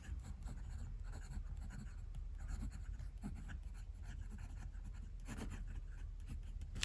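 A Moonman T1 fountain pen writes quickly on paper, a soft, steady scratching with small rhythmic strokes, close and quiet, with no talking.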